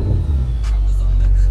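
Armytrix Stage 2 exhaust on a 700 bhp Audi RS6 starting up, heard from inside the car with windows closed: a loud, deep low rumble that swells slightly, with brief speech-like sounds over it.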